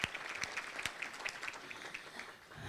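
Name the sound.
audience applause at an economic summit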